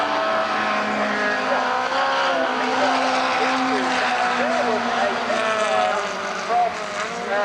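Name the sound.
Mustang V8 race car engine misfiring or hitting rev limiter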